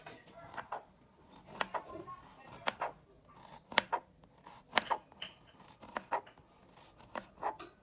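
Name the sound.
knife chopping a clove of garlic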